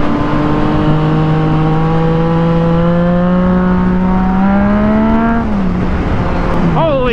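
Vehicle engine accelerating on an open road to pass a truck, a loud close engine tone climbing steadily for several seconds, then dropping sharply as it shifts and begins to climb again.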